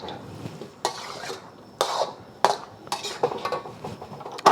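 Kung Pao chicken with peanuts and green onions is stirred in a pan: intermittent bursts of a utensil scraping and clinking against metal, separated by brief quiet gaps, close and fairly loud.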